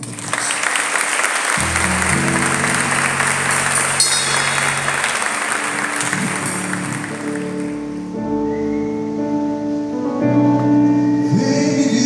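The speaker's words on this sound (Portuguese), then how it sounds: "Uma salva de palmas" Applause rings out at a church cell-group meeting after a prayer, sustained clapping under music and singing that continue throughout.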